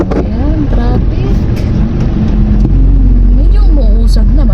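Road traffic on a shortcut through Santa Maria, Bulacan, a steady loud hum of engines and passing vehicles heard close by from inside a vehicle, with a person talking over it throughout.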